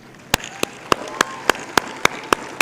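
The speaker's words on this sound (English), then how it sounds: "I'd like to request all of you once again to rise and applaud the contribution of our Mohsineen" At a university convocation, sharp, evenly spaced claps ring out close by, about four per second, over a faint hum of the hall.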